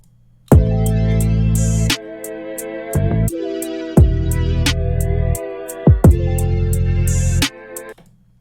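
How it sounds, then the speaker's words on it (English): R&B beat pitched up five semitones plays alone, loud and steady, with heavy booming bass notes in long blocks, sharp regular percussion ticks and a brief drop near the middle. "I pitched the beat up 5 semitones"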